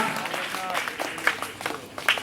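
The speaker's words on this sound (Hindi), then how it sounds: "चलिए एक जोरदार तालियां।" Applause at a staged performance of the play Namak Ka Daroga, with a crowd clapping steadily at moderate volume while a few brief voices rise over it as cast members are introduced.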